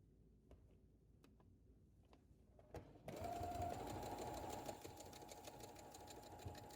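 After a few soft clicks, a sewing machine starts up and stitches to the end of a seam, a close, steady whirring hum with a rapid mechanical patter that lightens slightly toward the finish.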